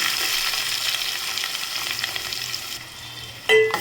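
Onions sautéing in a pan for an egg curry, giving a dense, continuous close-up sizzle with faint stirring, ending in a short bright clink; nobody speaks.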